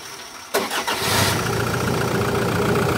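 An old car cranks briefly and starts on a new battery, then settles into a loud, steady idle heard up close.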